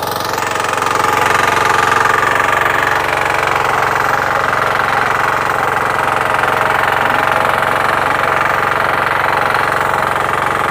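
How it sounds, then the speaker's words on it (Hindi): A Kama diesel engine drives a power weeder tilling a dry field, roaring loud and steady with a rough, knocking throb that holds unbroken throughout, close by and with no talk over it. "यहाँ पर डीजल इंजन का कमाल देखिए किसान साथियों।"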